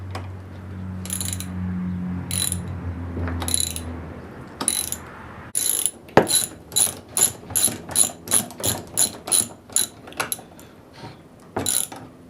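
A ratchet wrench fitted with a 10 mm socket turns small bolts on a camper build. Close, loud, rapid clicking comes in quick bursts, then a long run of evenly spaced ratchet strokes with a few pauses between them.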